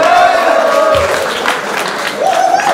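Live audience at rap battle try-outs cheering and applauding loudly and continuously, with crowd noise and a few raised voices carrying throughout.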